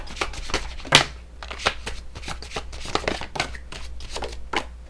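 Tarot cards being shuffled in quick repeated riffles and slaps, a close, crisp run of bursts with brief pauses, no talking.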